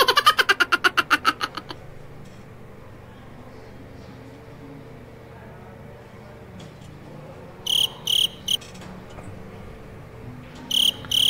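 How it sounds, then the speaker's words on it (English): Crickets chirp in fast rhythmic pulse trains, a loud burst at the start, then a long quiet stretch before shorter clusters of chirps return near the end. "The crickets?"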